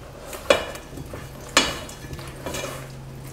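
A spoon clacks twice against a bowl as apple pie filling is tossed to coat, two sharp knocks about a second apart with a softer scrape and a light tap between them, close and alone.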